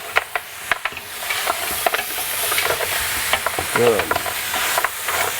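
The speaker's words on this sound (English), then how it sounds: "I'm going to dump everything in there." Pepper pot meat and other ingredients sizzle loudly in a pot, with crackling bursts and utensil scrapes over a continuous frying hiss; a voice speaks once briefly.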